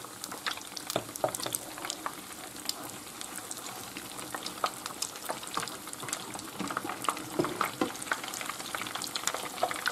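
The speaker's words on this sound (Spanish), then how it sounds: "Ya hemos acabado de freír y rebozar las torrijas" Homemade wine-soaked torrijas fry in hot oil with a steady, dense crackle and spitting sizzle, scattered sharp pops rising from the bubbling fat across the whole stretch.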